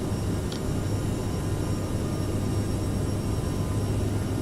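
Jet engines of an Aerosoft CRJ700 regional jet in Microsoft Flight Simulator spool up for the climb, a steady, loud broadband roar with a sustained low hum and no voices.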